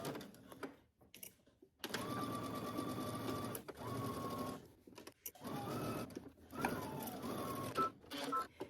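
A sewing machine stitches a side seam and sleeve at a 5/8 inch seam allowance, running in several close bursts of steady motor whirr separated by short pauses.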